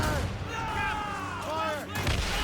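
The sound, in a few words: ship cannons firing, Assassin's Creed Rogue video game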